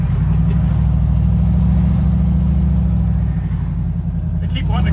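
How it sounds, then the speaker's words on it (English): A 1964 Ford F-100 pickup truck drives along on a test drive, its engine holding a steady, loud, low drone throughout with only slight changes in pitch. "It's a 64 F-100 truck."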